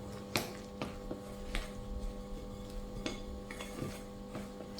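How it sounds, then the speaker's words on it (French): A spoon knocks and scrapes against a bowl while msemen dough is mixed with salt and water, giving irregular clinks and soft scraping at close range with a steady low hum underneath. "Mélanger juste avec la cuillère au début."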